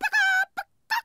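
A voice imitates a hen laying an egg in a cartoon, giving a short clucking squawk, then a sustained nasal cackle, and two more brief clucks after a pause, all close and alone.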